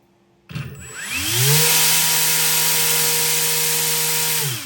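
An RC motor spins up a 3-bladed 8.5-inch folding propeller on a thrust test stand, rising to a steady loud whine with a strong tonal hum that holds evenly for several seconds, then begins to wind down.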